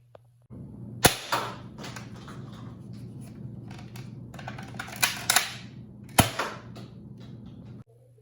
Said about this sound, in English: You can actually leave the shell in and front load the darts into the blaster and fire that way.